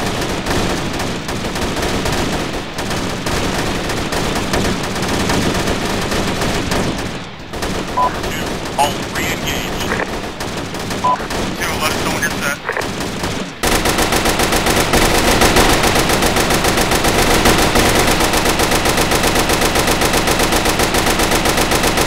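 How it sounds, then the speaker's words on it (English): Sustained gunfire in the military video game Arma 3, heavy overlapping machine-gun and rifle bursts that grow even louder and denser near the end, forming a loud continuous firefight. "start laying down fire in the north"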